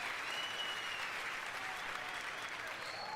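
A live audience applauds at a George Carlin stand-up show, a dense, steady wash of clapping from a full house that fills the whole short stretch without a break.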